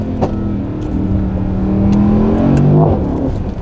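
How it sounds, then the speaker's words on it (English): A 2023 Mercedes-AMG SL63 roadster engine revs and rises in pitch, then drops with a downshift, and a few sharp exhaust pops and crackles follow close and loud. "alternatively, downshifting like that, you get some nice down pops"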